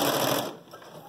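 Sewing machine stitching fabric for a two-tone 3D face mask, a brief close whir of running motor that cuts off partway and leaves a quieter hum.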